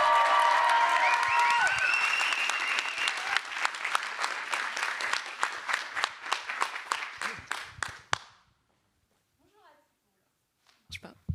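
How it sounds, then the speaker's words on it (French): Audience applause at a French thesis-presentation contest, a dense burst of clapping for about eight seconds that thins into scattered claps and fades into near silence, with a couple of faint claps at the end. "Je vous remercie de refaire un tonnerre d'applaudissements"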